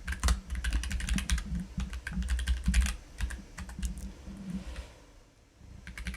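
Quick bursts of typing on a computer keyboard as code is written in Python, clusters of close clicky keystrokes with brief pauses, softening near the end.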